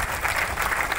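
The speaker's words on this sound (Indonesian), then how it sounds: "Boleh tepuk tangan?" Applause from the audience at a launch event for young farmers and livestock breeders in West Bandung Regency, steady dense clapping throughout the short moment, fairly close and loud.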